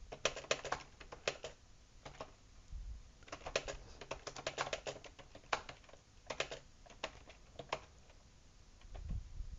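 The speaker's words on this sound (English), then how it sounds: "type your message" A message is typed on a computer keyboard in quick, uneven bursts of close, crisp key clicks, separated by short pauses.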